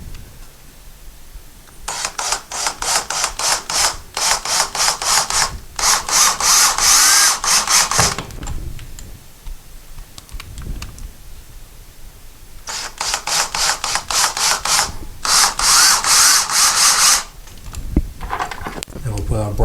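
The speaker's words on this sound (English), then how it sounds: "now that we pre-lubed the screws with the soap, we can put these back in here. Again, we're going to screw them in about 3/4 of the way." Power drill driving soap-lubricated screws into drywall to mount a curtain rod bracket, two long loud bursts of high whining drilling, each made of rapid pulsed stretches, with quieter pauses and talking between them.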